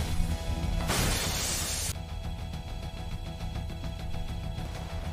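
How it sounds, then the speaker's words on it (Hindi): In an animated horror story, a woman smashes through glass: a sudden loud, bright crash of breaking glass lasting about a second before fading into a low, steady rumble. "सारा शीशा तोड़कर बाहर निकल जाती है।"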